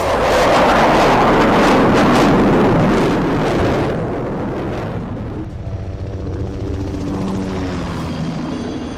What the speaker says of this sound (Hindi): इस वक्त आसमान में दर्जनों फाइटर जेट और हेलीकॉप्टर गरज रहे हैं